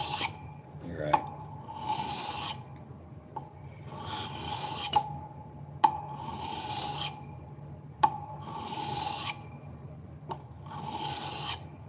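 A knife blade is stroked on a 400 grit whetstone in repeated rasping passes, each ending with a sharp tick, close and clear, with no talk.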